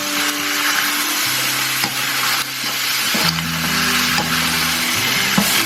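Roasted cashews are stirred through sizzling Thai cashew chicken with green onion in a hot pan: a steady close frying hiss with soft scraping stirring strokes, continuous throughout and no voices.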